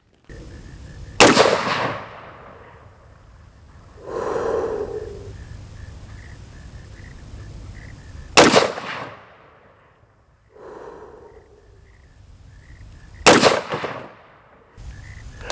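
An AR-15 pistol fitted with a Sig Romeo 5 sight fires three loud, sharp single shots several seconds apart outdoors, each one cracking and then echoing away.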